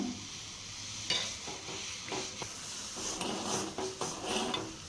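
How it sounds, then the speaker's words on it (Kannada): A herbal kashaya decoction boils on a gas stove at low flame, a continuous close bubbling hiss marked by several brief clinks and knocks. "ಈಗ ಇದು ಚೆನ್ನಾಗಿ ಕುದಿಯಕತ್ತೈತೆ"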